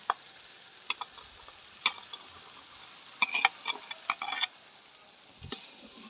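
Garlic ginger paste frying in a pot for vegetable pulao, a soft low sizzle broken by scattered sharp clicks and scrapes of stirring, with a busier cluster of clinks midway.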